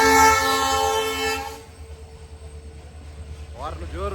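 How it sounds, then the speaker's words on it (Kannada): A diesel train roars past close by in Goa, its horn blaring loudly at first before the rumble of the engine and wagons carries on, with people talking over it toward the end. "ಡೀಸೆಲ್ ಟ್ರೈನ್ ತುಂಬ ಸಮಯ ನಂತರ ನೋಡಿದ್ದು."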